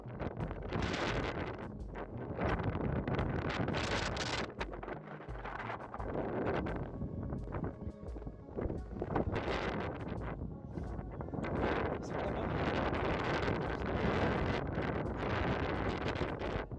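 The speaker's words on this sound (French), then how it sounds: "le vent s'est levé d'un coup. Vent violent, imprévisible, presque vivant, impossible de bouger." Strong, gusty wind at a mountain summit roars steadily and loudly throughout, buffeting the microphone with a dense, unbroken rush and no voices.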